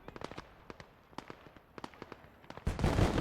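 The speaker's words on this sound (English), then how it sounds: "I'm going to pull out the MG42, the belt fed from the half track." Rapid bursts of an MG42 belt-fed machine gun firing in a Gates of Hell Ostfront battle, sharp cracks in uneven clusters, followed by a sudden loud continuous roar of heavier fire or an explosion near the end.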